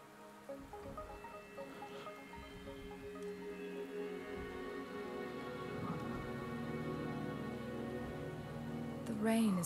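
Rain patters steadily in the Wuthering Waves video game, a constant hiss under faint music that grows slightly louder toward the end, with no clear speech.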